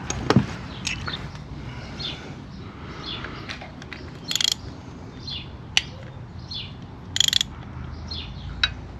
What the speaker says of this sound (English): and then loosen that bolt there and see if I hear anything move with the spring.